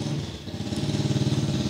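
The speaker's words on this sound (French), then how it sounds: "la moto va passer" A motorcycle engine runs steadily nearby, a low pulsing drone with a rapid regular beat that swells slightly in loudness, heard alone without talk.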